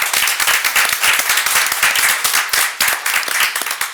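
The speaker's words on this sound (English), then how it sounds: "Let's give her a round of applause" Dense applause from a city council meeting audience honoring a program initiator, many hands clapping loudly and steadily for about four seconds with no talk over it.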